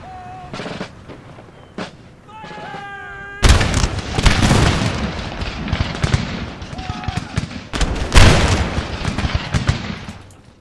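Cannons and musket volleys fire in an Empire Total War battle, with heavy booms and crackling gunfire bursts erupting in waves over ongoing battlefield noise, mixed with brief game sound cues.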